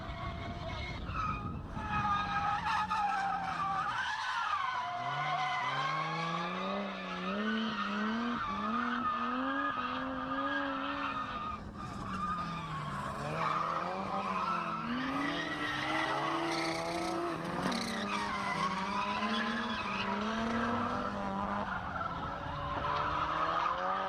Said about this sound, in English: Michael Spencer, who spins on turn 2.